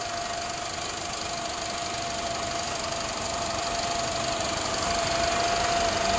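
A 2008 Japanese car idles quietly as a soft, steady engine hum sits under a constant wash of broadband background noise, with a faint thin tone running throughout and no talking.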